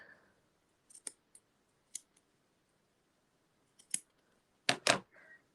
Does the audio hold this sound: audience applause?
no